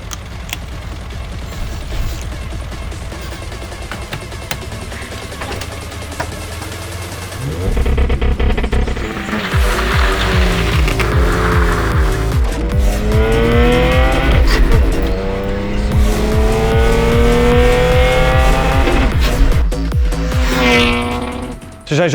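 Loud engine roar from two Datsun 260Z sports cars, a steady rumble that swells as they rev and pull away, with tire noise and continuous throaty exhaust throughout.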